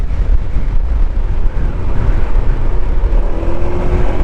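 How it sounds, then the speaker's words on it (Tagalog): Strong wind buffets the microphone while riding a Honda ADV 160 scooter across Patapat Bridge in Ilocos Norte, a loud, steady roar of gusts over low engine and road rumble throughout. "Lakas ng hangin dito."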